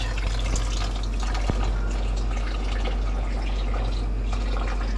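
Water runs steadily through the inside of a sausage casing being rinsed during homemade venison sucuk making, a continuous close rushing and splashing flow with a single brief knock partway through.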